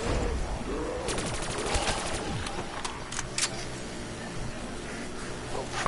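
Gunfire in the Black Ops 3 video game: rapid bursts of automatic shots crackle through the first half, followed by a few sharper single cracks and scattered pops over steady game noise.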